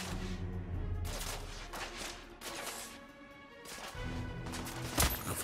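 Gunfire from the video game The Order: 1886, a dense sustained stretch of shots and impacts with loud bursts throughout, brief lulls around the middle and a sharp crack near the end.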